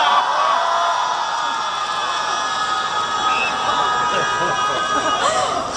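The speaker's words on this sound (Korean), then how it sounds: "이렇게 너무나 벅찬 함성을 보내주셔서" A festival concert crowd at an outdoor sweetfish festival in Bonghwa, South Korea, cheers and shouts loudly and continuously, with whoops and scattered screams in a dense wash of audience noise.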